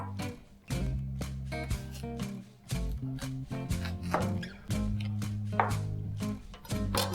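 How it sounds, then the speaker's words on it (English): A knife cuts a medium-sized watermelon into thick slices, with several firm chopping strokes on a board and brief pauses between them, close and clear. "We'll start by cutting a medium-sized watermelon into thick slices."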